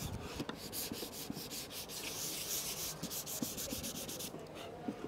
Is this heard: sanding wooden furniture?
yes